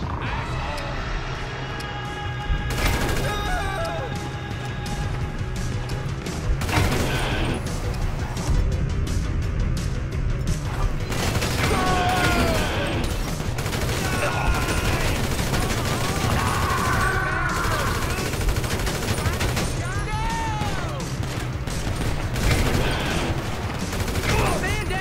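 Gunfire rattles through a chaotic Grand Theft Auto V scene, with repeated bursts and sharp shots over a steady game din, while voices shout and chatter at intervals throughout.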